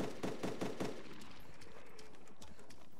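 Several quick gunshots crack in a short burst in the DayZ survival game, then fade into a quiet, hissing tail of ambient noise.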